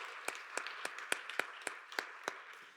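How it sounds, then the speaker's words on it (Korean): Clapping at a church youth worship service, heard as about nine evenly spaced claps in a steady rhythm, fairly faint and without talk. "박수로 서로를 격려하겠습니다."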